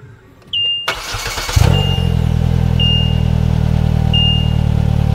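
A Polaris Slingshot Roush Edition engine cranks and fires up loudly nearby, then settles into a deep, steady idle rumble with a faint high whine above it.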